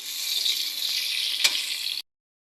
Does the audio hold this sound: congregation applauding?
no